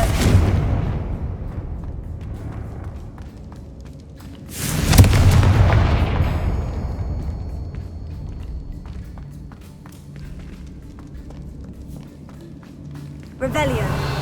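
A Confringo blasting spell in Hogwarts Legacy detonates with a booming explosion that rumbles and decays over several seconds, followed later by a second sharp blast, amid game sounds.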